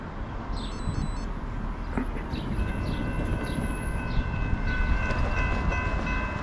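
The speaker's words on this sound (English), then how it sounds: "We got a short train coming. 56 axles, 48 miles an hour." A short CSX freight train of 56 axles rumbles past at close range at 48 miles an hour with a steady clatter of wheels, its horn sounding in long sustained blasts.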